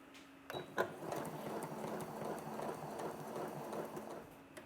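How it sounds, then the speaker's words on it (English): A sewing machine with a quarter-inch foot stitching a curved quilt seam at slow speed, a steady fast rhythmic needle chatter, soft and close with no talk. "on your sewing machine, you'll be able to more easily manipulate the curve with your fingers"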